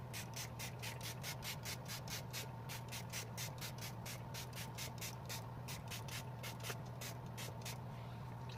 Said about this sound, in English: I'm just going to use my setting spray and spray this all over